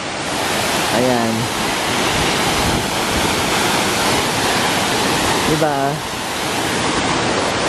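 Taosuban Falls roars in a constant, loud wash of noise, with a voice briefly speaking twice over the rushing water; strong, cold wind.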